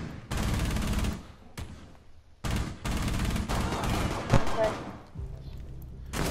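Sustained bursts of automatic gunfire in the tactical shooter Rainbow Six Siege, loud and close, broken by short pauses between volleys, with a player's voice briefly heard.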